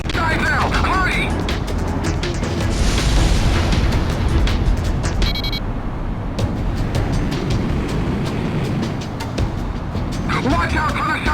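Loud, chaotic aerial combat in Ace Combat X with an F-4E Phantom II, heavy booming blasts and rumbling engine noise, a sharp burst of shot cannon fire midway, then continued roaring action.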